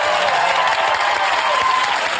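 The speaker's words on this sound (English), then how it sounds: "Ladies and gentlemen, a big round of applause for Celia Popola." An audience claps in a sustained burst of applause at a live comedy show, dense and close, with a faint crowd murmur underneath.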